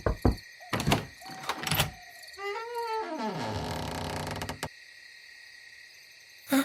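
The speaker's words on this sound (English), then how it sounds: "Now let me knock." Several sharp knocks land on a small cozy hut door up close, followed by a long creaking mechanical sound, all in near silence.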